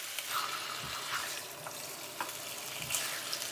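Pork ribs for sweet and sour ribs, dried of surface water, stir-fry in a wok with a continuous close sizzle and occasional scraping thumps from a spatula.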